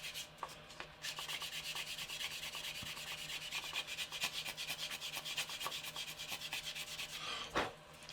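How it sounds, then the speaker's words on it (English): Clay rubbed over the surface of a 1/48 scale model MiG-25 to polish it, a soft, close, steady scratchy rubbing in quick back-and-forth strokes, faint and alone. "the clay is physically polishing up some of this stuff"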